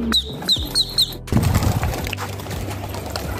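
Pigeons burst into flight in the evening with loud, rapid wing flaps and a few sharp chirps, followed by a rushing, fluttering clatter as the flock takes off.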